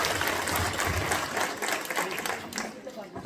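A crowd at a school function gives applause for a district official being introduced, a dense wash of clapping over a few seconds, mixed with speech.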